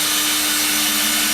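A screw is driven into a wooden lid with a power tool, making a dense, steady whirring grind through a short stretch with no talking.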